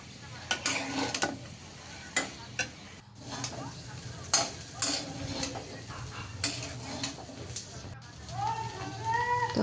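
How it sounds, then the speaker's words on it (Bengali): Rice being stir-fried in a home kitchen pan with meat and diced potato, a spoon scraping and stirring in irregular clinks and taps over a soft sizzle, moderately close, with a voice speaking at times. "আর একটু ফ্রাইড রাইসের মতো ভালোভাবে সব কিছু ভেজে নিচ্ছি"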